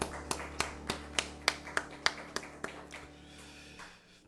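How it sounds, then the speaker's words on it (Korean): A church congregation at a Korean Sunday morning worship service claps in unison, about a dozen crisp, evenly spaced beats that gradually weaken and trail off into a quiet room. "하나님 앞에 영광의 박수 올려드립시다"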